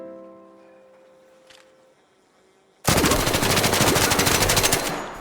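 Stitcher gun with a Kinetic Converter mod in Arc Raiders fires a loud, rapid sustained burst of automatic gunfire that starts abruptly after a quiet lull of faint tones and keeps hammering to the end.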